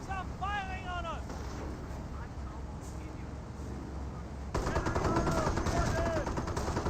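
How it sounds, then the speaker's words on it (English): Enemy troops fire on a unit in Company of Heroes, a dense crackling stream of gunfire that grows louder halfway through, with a voice speaking over it. "Enemy troops are firing on us."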